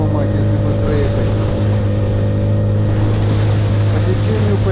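Motorboat engine droning steadily and loudly at close range as the boat pushes slowly through river ice floes in late-season cold, a constant low hum with water and ice scraping beneath.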